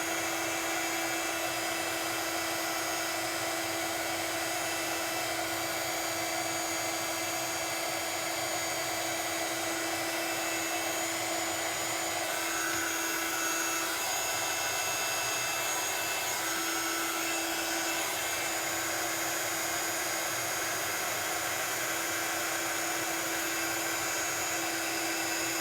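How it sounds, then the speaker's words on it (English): A heat gun melting embossing powder on a stamped card, blowing as a loud, steady whine and rushing airflow that stays constant and unbroken from start to finish, close to the microphone. "we're just going to move the heat gun over the image"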